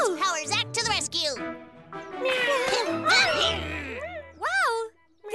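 A kitten in a children's animated series meows in high, rising cries mixed with excited cartoon voices, the mews near and loud, alternating with talking before a brief pause and a final call.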